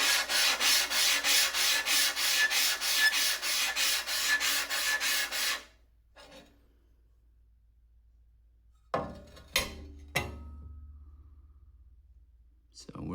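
Hand sanding across a table saw's metal top gives about six seconds of steady, rhythmic back-and-forth rubbing strokes up close. Quiet follows, then a few sharp clicks and knocks.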